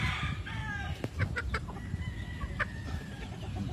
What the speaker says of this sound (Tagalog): Ayan o, yung pullet na to.